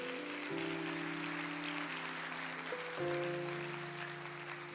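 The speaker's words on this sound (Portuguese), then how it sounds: "vamos aplaudir ao Senhor" Congregation applauding the Lord during a church service, a soft, even wash of clapping beneath sustained keyboard chords that shift a couple of times.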